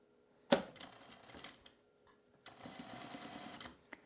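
A domestic sewing machine stitches the hem of fleece sweatpants, running in two short bursts of fast, close mechanical whirring separated by a brief pause, ending with a small click.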